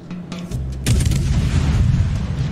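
Naval gunfire in the video game World of Warships comes as a heavy, loud boom followed by a rumbling roar, with a softer thud just before it.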